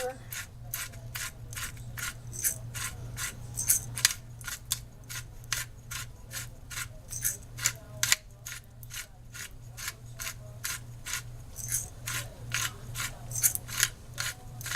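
Black pepper being ground with a hand pepper grinder: rapid, regular crunchy clicking strokes repeating close up throughout, alongside a low steady hum.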